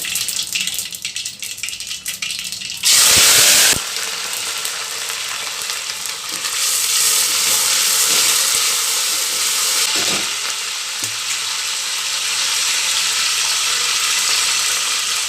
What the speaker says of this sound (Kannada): ಸಾಸಿವೆ ಸಾಸಿವೆ ಸ್ವಲ್ಪ ಚಟ್ಪಟ ಅನ್ನಬೇಕು ನೋಡಿ ಕರ್ಬೇವು ಸ್ವಲ್ಪ ಜಾಸ್ತಿ ಹಾಕಬೇಕು